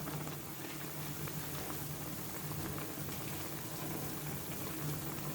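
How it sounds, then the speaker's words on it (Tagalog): Steady bubbling and hissing of water at a rolling boil in a pot, a dense continuous wash of small pops with a low hum underneath, no voices. "And guys, kumukulo na,"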